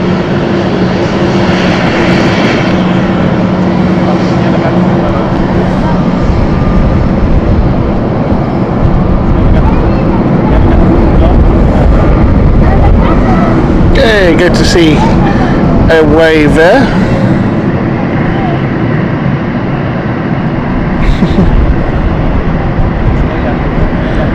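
A fixed-wing airliner at London City Airport roars loudly and steadily, with engine and propeller noise filling the whole stretch while people talk over it.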